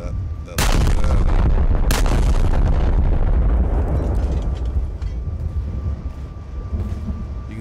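An 800 mm Schwerer Gustav railway gun firing in War Thunder: a huge close blast followed by a second crack, then a long rumbling roar that slowly fades, with a brief voice underneath.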